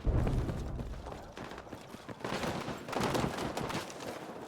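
Gunfire in the video game Battlefield 6, a dense, noisy stream of shots and impacts with bursts swelling and fading, fairly quiet overall in the game mix.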